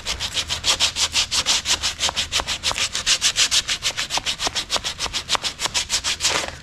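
Fiberglass being smoothed with a 3M sanding block: fast, regular back-and-forth rasping strokes, dozens in a row, close and steady from start to finish.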